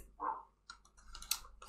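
Pet dogs bark a few times in a home kitchen, faint and somewhat distant, one yelp followed by a cluster of quick barks, with no one talking.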